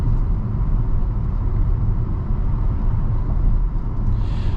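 Steady low road rumble and engine drone inside a 2025 Chevy Trailblazer RS with a 9-speed automatic, shifting gears while driving; the cabin noise holds fairly even, with no talking.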